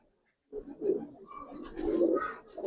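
Pigeons in a loft of Palla-line flying birds give a soft, close, throaty coo that starts after a brief quiet moment and rolls on in low warbling phrases, growing slightly fuller toward the end.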